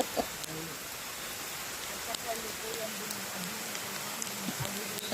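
Heavy rain hisses in a steady, broadband wash, with scattered drops and faint distant voices or thuds beneath it.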